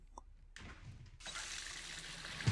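Water runs as a dog is bathed in The Sims 4, a soft splash followed by a steady, moderately loud stream of tap-like water filling a tub.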